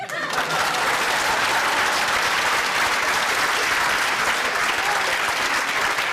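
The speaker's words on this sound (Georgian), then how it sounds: "ბუმბერაზი მსახიობი რო შემოვა სცენაზე ტაშს უკრავენ" Dense, loud applause from a studio audience at a Saturday comedy show greets an actor walking onto the stage, a continuous wash of clapping that holds steady from start to finish.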